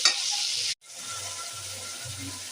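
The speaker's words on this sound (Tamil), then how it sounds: "பாருங்க வெங்காயம் தக்காளி வதங்குது" Onion and tomato with salt sautéing in a pan for potato sambar make a dense, steady sizzle, close and fairly loud. It breaks off briefly when stirred, with low scraping strokes underneath.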